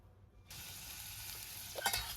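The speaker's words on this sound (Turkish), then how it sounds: "Şöyle sarımsağı da atarsam beraber kavrulur." Onion, carrot and garlic sautéing in a small pot for bolognese pasta sauce, a steady close sizzle that starts abruptly after a quiet half second and holds throughout, with a brief stirring clatter near the end.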